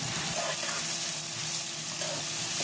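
Chopped onion and curry leaves fry in hot oil with cumin seeds, making a close, continuous bubbling sizzle with faint stirring beneath.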